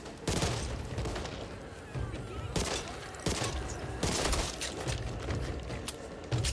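Gunfire in the Back 4 Blood video game aimed at a sleeper zombie, dense bursts of rapid shots with mechanical clatter, loud and continuous with brief lulls.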